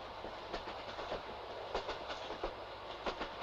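A train running on rails toward Tokyo, heard from inside as a low steady rumble with soft irregular clicks of wheels over rail joints, fairly quiet and without speech.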